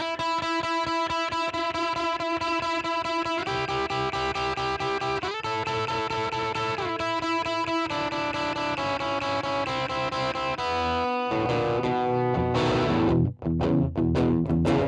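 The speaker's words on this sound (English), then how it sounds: "stick on a bit of distortion" Heavily distorted electric guitar, played through a Ferrograph Series 3 tape recorder as an amp, plays sustained chords and riffs, loud and continuous, ending with a few sharp picked notes.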